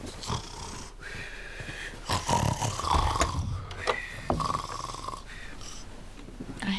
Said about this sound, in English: I heard you snoring, but you're not asleep.